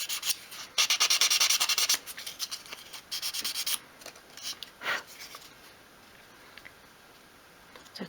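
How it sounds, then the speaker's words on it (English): Quick, rapid scratchy strokes of sandpaper rub a tiny 1/12th scale miniature drawer knob up close, loud for a few seconds and then fading into softer intermittent rubbing and quiet, with no talking. "And then just give it a quick sand to prepare for finishing."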